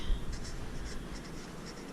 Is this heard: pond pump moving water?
no